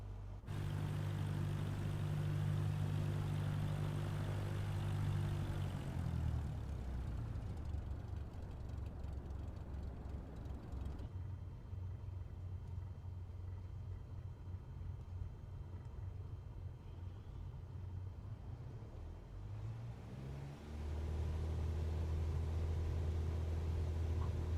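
An airliner in Microsoft Flight Simulator 2024 takes off as steady engine rumble and whine swell, drop back to a lower rush, then rise again near the end, with no talk over it.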